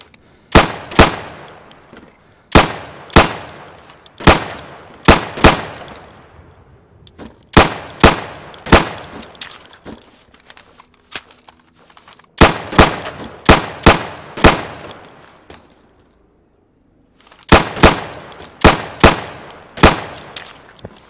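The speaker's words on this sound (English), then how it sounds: "So you can shoot accurately over 20 feet with your sidearm." Sidearm fire in the video game Insurgency, aimed at pop-up targets on a range: loud sharp pistol shots in quick groups of four or five, with short pauses between the bursts.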